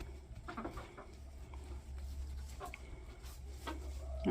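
Backyard chickens cluck softly in short scattered bursts over a low rumbling background, a few hens nearby but fairly faint.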